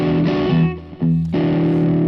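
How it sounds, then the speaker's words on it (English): Electric guitar played through a 100-watt Magic Dust Duo amp with both drives stacked for high gain, giving thick sustained distorted chords with a brief drop before ringing out again, loud and alone. "pretty happening high gain tones by ganging the 2 drives together"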